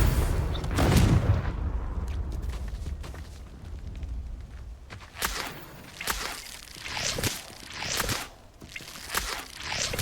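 A Confringo spell blast in Hogwarts Legacy bursts with a loud, rumbling boom, followed by a run of sharp cracks and whooshing impacts spaced every second or so, with game combat noise in between.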